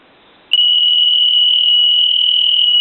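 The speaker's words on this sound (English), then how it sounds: "Let that go one more time, and then I'll hit loud." A telephone's factory-original piezo buzzer, set to its loud level, suddenly rings at full volume, a shrill, unbroken high-pitched tone that holds steady and loud after a short quiet start.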